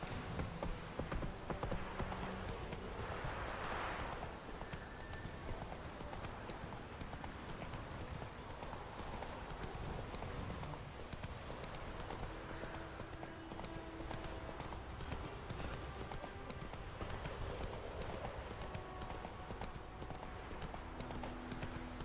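Roach, Geralt's horse in Witcher 3, gallops along a path in a steady, continuous clip-clop of hooves, faint and even from start to finish with no voices.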